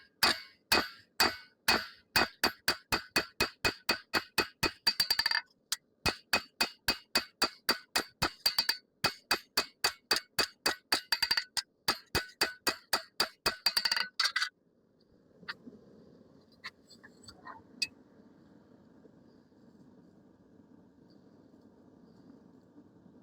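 Rapid, evenly spaced hammer blows ring on hot steel as a chef knife blade is forged, each strike sharp and metallic, in two long bursts with a brief pause between. The hammering stops near fifteen seconds, leaving faint shop noise and a few light clinks.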